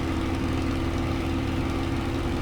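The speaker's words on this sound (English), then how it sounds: "Nice throaty growl to that Merlin engine." The Merlin engine of a Spitfire Mk IX in Microsoft Flight Simulator drones steadily, a dense, continuous, throaty growl that stays even in loudness throughout, with no voices.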